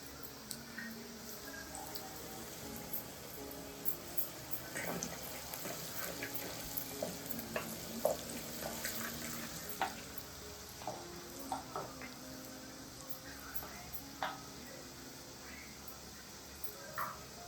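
Telangana-style brinjal curry with green chilies and turmeric fries in a pan, a soft steady sizzle broken by scattered clicks and scrapes of stirring.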